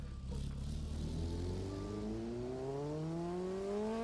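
A racing motorcycle on the Isle of Man TT course pulls through a gear, its engine whine climbing steadily in pitch as it accelerates, steady and fairly close, with no talking.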